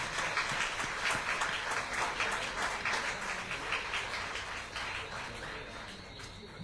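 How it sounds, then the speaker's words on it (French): A crowd gathered outdoors for the Tour de Guadeloupe 2024 cycling team presentation applauds steadily, a thick sustained wash of clapping heard from amid the audience with no break. "Je veux entendre des applaudissements tout de suite"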